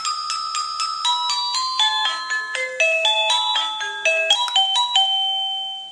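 Quick, bright chime melodies ring out one after another from an Avantek Jerrybox DT52 wireless doorbell as it steps through its tunes, with rising and falling notes close up before a final sustained tone fades away.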